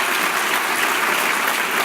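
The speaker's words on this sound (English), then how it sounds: "a well-deserved round of applause" An audience gives steady, dense applause at an awards honor ceremony, a continuous wash of many hands clapping with no voices above it.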